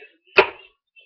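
A single sharp hand clap struck once, close and fairly loud, with a quick decay into silence.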